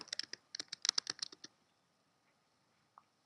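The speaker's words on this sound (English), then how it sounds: "under Find, I am going to type in Restore giveaway." A search term tapped out on a computer keyboard: a quick run of crisp, close key clicks lasting about a second and a half, then near silence with one last soft tap.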